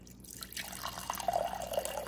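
Water poured for mushroom coffee: a thin stream trickling and splashing into a cup, soft and close with small bright drips, no talking.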